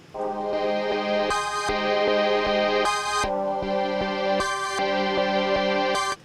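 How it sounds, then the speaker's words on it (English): Sustained organ chords layer into a dark synth beat, holding steady tones over a thumping kick pattern, with bright bursts and hi-hat accents recurring at regular intervals. "So then we have this organ that comes in to spice things up more."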